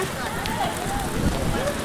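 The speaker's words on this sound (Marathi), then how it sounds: "पुन्हा एकदा दशा घेऊन तोच पाऊस आलेला आहे" Heavy rain pours steadily on the way to a farmhouse in Alibag, a dense continuous hiss with no breaks, while people talk over it.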